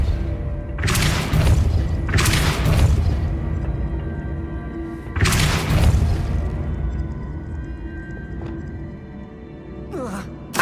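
Depulso force spell impacts in Hogwarts Legacy, a game, land as several loud, deep booming thumps with bursts of debris, spaced across the stretch. A voice is heard, with a quieter crackle near the end.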